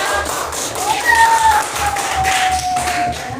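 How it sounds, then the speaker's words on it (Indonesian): A primary school class claps for a student group, giving rhythmic, patterned clapping with soft thumps in a classroom, while a voice and a faint whistle-like tone run over it. "kasih tepuk tangan untuk kelompok 2."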